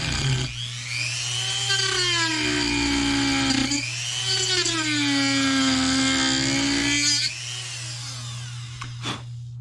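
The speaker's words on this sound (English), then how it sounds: "the little Dremel's nice, but the big Dremel bites" A Dremel rotary tool whining through a cut during robot building, two long sustained passes with the pitch rising and dipping under load, close and fairly loud over a steady low hum, then a brief sharp clack at the end.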